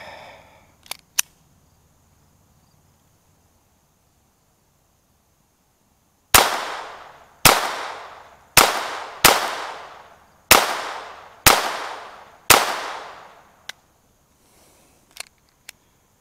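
Seven sharp, loud gunshots from a Glock fitted with an Advantage Arms .22 conversion firing CCI Mini Mag ammunition crack at an uneven pace, each ringing briefly, followed by a few small mechanical clicks and a faint tap.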